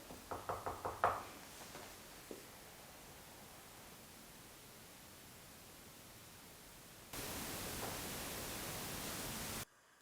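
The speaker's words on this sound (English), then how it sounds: "we do get a knock, and this is the knock" A quick burst of about five light knocks on a wall during a ghost hunt at Madison Seminary, followed by a fainter knock, then long quiet hiss and a loud band of static noise.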